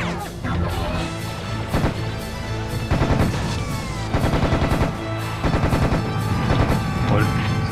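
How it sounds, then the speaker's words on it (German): Continuous gunfire in the shooter game Serious Sam HD: rapid, loud bursts of shots crack in quick succession, with heavy repeated blasts and crashing impacts throughout. "Du kannst auch theoretisch fast Dauerschuss hier machen, weil hier ist so viel Muni"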